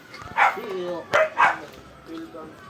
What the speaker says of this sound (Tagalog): Biglang tinahol ako ng aso